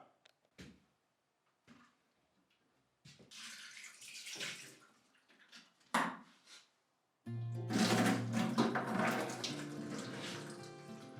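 Water running into a sink or toilet tank in an old house, heard in short intermittent bursts with handling knocks in between, then a louder continuous splashing flow near the end, close by.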